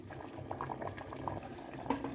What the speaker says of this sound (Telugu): పప్పు ఉడికింది కదా